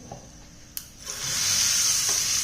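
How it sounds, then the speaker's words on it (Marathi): Mustard seeds, turmeric and curry leaves sizzle loudly in hot oil as the tempering is poured over chutney, a bright steady hiss rising after a quiet start and a sharp tap. "हा तडका आपल्या या चटणीवर आपल्याला घालून घ्यायचा आहे"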